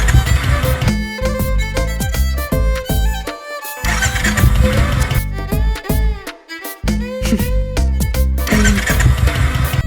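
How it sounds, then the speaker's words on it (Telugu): A motorcycle engine cranks repeatedly and fails to start, giving loud, rapid, stuttering bursts that cut in and out with brief gaps, close by. "బైక్ స్టార్ట్ అవ్వట్లేదు"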